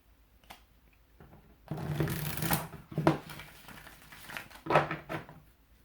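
Tarot cards being shuffled by hand, several bursts of riffling and rustling of moderate loudness separated by brief pauses, close up, with no talking.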